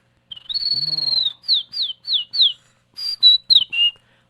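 A voice imitates tropical birds: a long whistled note, then a run of short, clear, descending chirps, close and bright.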